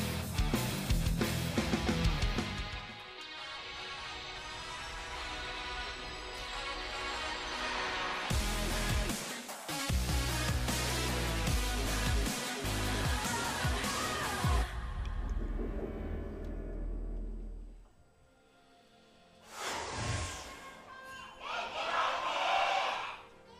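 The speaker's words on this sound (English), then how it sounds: "Not actually sure which one won the cheer war right there" A large esports arena crowd at a 2017 LCK League of Legends match between KT and Jin Air trades loud, sustained cheers in a cheer war, with surging roars, a brief lull, then another rising burst.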